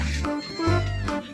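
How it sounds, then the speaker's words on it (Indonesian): A young kitten, rescued after being dumped in a sack with injured ears and eyes, gives a couple of close, loud meows in quick succession, with faint background sound and no clear talk. "Yang nyambut pertama kali aku datang ke rumah kucing Endereza tadi"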